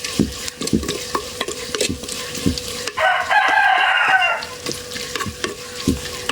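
A rooster crows once in the middle, loud and clear, over the scrape and sizzle of beef trotters being stirred in a pan.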